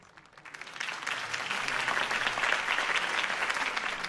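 Applause from a crowd at a political campaign speech in Batman: The Telltale Series swells up quickly and carries on steadily, a dense patter of clapping at moderate distance.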